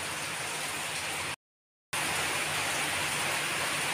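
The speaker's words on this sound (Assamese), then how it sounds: "এয়া বৰষুণ দি আছে" Heavy rain falls outside a window as a dense, constant hiss that is cut by a brief moment of complete silence before the steady downpour resumes.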